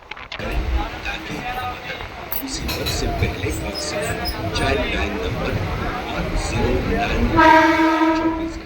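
A passenger train in West Bengal rolls along with a steady rumble and rail clatter, and its horn sounds loudly near the end, while people talk over the noise.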